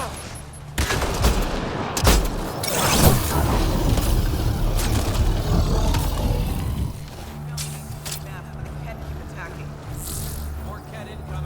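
A grenade blast in the video game Mass Effect Andromeda, a loud boom amid bursts of gunfire in a dense combat mix, with a voice speaking over the action.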